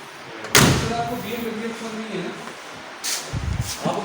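An antique luxury car's rear-hinged door is opened and shut, giving a sharp slam near the start and softer thuds toward the end, with brief talk around it.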